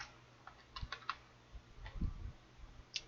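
Keys clicking on a computer keyboard as someone types text into a Microsoft Word document, with several scattered keystrokes at a quiet, close level and no speech.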